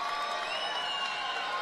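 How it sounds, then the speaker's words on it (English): Crowd applause and cheering in an arena at a FIBA EuroBasket 2021 pre-qualifier basketball game between Great Britain and Austria, a steady wash of clapping and shouts at moderate distance with no break. "you'll see the round of applause"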